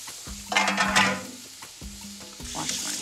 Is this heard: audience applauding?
no